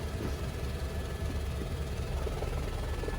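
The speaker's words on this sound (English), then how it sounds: "about to go shoot a gunship helicopter" Gunship helicopter in flight over the Nevada desert, a steady, loud engine and rotor roar with heavy low rumble that fills the whole stretch without letup, recorded up close with no voices.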